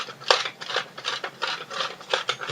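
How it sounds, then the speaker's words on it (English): Coarse grinding of black peppercorns in a pepper grinder set loose for big pieces: a series of dry, rasping crunches in short repeated bursts, close and fairly quiet, with no talking. "I've got this grinder turned as loose as it'll go, so the peppercorns come out in really big pieces."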